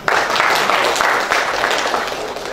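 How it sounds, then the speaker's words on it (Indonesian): Loud, dense audience applause in a hall during a government forum on the role of Indonesian subdistricts, continuous clapping filling the whole moment without a break. "Tepuk tangan dulu dong."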